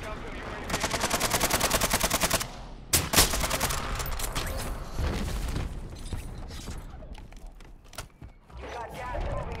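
Rapid automatic gunfire from a first-person shooter video game, with a fast rattling burst and then heavy scattered shots and mechanical clatter, loud and close under voices.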